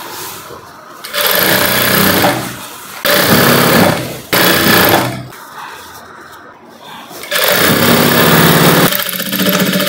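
A sewing machine stitching the satin lining of a long gown runs in several loud, steady bursts separated by brief pauses, with faint handling noise between runs.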